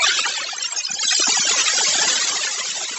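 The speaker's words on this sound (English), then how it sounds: "If you've ever wondered what a storm sounds like on the sun, it sounds a little like this." Sonified solar storm data heard as a dense, hissy crackle with chirping, warbling electronic textures, steady and fairly loud for a few seconds.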